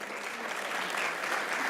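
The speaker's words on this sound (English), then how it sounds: "Big round of applause for you" An audience at a United Nations meditation event applauds as a diplomat from Andorra is introduced, a short, steady, dense patter of many hands clapping at even volume throughout.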